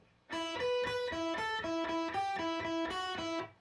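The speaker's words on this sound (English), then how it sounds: "the main line that we're going to do where we're alternate picking, this fast little line here" Electric guitar playing a quick alternate-picked single-note line on the first string, taken slowly, with a steady stream of evenly spaced picked notes, close and clear with no talking.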